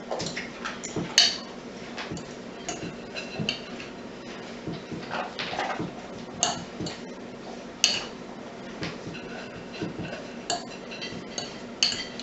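Whey being stirred into freshly made goat cheese in a bowl, a spoon clinking and scraping against the dish in an irregular series of light taps, close and fairly quiet, with no talking.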